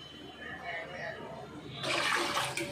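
Rice-washing water pours into a pot for shrimp sinigang, a sudden broad rushing splash starting partway through and continuing to the end, fairly close, with faint background noise before it.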